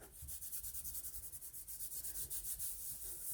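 Steady rhythmic rubbing on paper laid over an inked plate in dendritic printing, pressed down by hand to lift a feather-patterned print; a soft, even scraping repeats about four or five times a second, close and quiet, with no talk.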